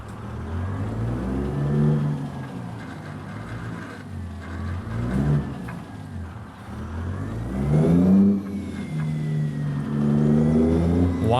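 A Ruda 389 Glider truck engine in American Truck Simulator revs up and down repeatedly as it struggles to shift into second gear, with rising and falling surges close up and no talk.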